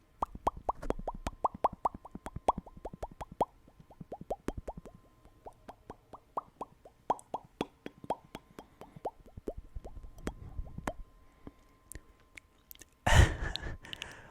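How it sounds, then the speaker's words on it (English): Soft, close wet mouth clicks and pops repeat in quick irregular succession, then a brief breathy rush of air at the end. "let's make a little bit of mouth sounds"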